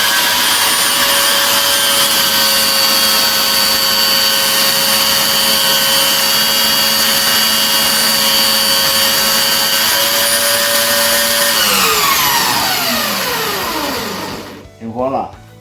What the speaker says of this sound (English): we got a lot of leather on that we can use to clean up our belt sander